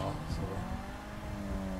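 A fleeing car in GTA rumbles and revs as it drives away, a steady engine drone heard under a brief spoken word.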